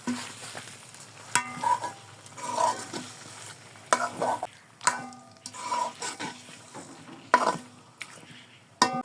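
Marinated chicken for chicken korma is stir-fried in a pan, with repeated scraping strokes of a spatula against the metal over an intermittent sizzle, in rhythmic bursts with short gaps.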